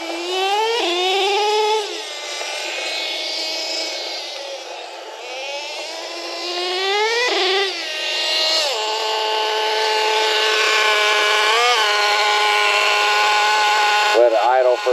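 A nitro-powered Traxxas T-Maxx RC truck engine runs loud and close, its high buzzing whine rising and falling in quick revs before settling toward a steadier idle.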